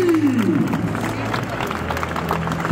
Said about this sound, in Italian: Voglio un grande applauso per Andrea Menotti,